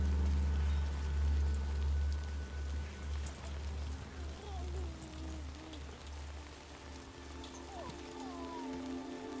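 Steady rain in the video game Death Stranding 2 patters across the whole stretch, a dense even hiss with a low rumbling undertone and no voices.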